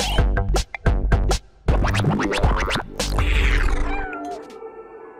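A cat in the video game Stray gives several loud, drawn-out meows and caterwauls in quick succession, close and prominent, with scratchy noises, then the sound fades away.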